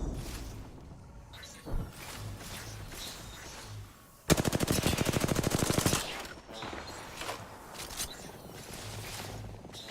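Gunfire in a combat game: a couple of isolated shots, then a dense, loud burst of rapid machine-gun fire lasting about two seconds, followed by scattered further shots over low background rumble and faint voices.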